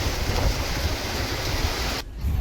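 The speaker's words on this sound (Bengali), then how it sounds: "শুধু বৃষ্টির শব্দ বাতাসের ছোঁয়া" A steady, dense hiss of rain falls continuously on the Jamuna riverbank at Sirajganj, with a brief dip near the end before it resumes.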